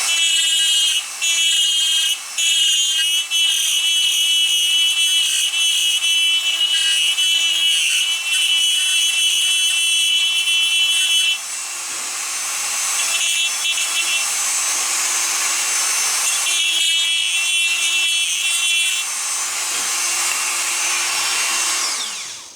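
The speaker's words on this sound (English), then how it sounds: "And I'll do that with the Dremel." A Dremel rotary tool grinds the bottom edge of a wooden gun stock inlet near the nose, giving a high, steady whine broken by short pauses and shifting pitch as the bit bears on the wood.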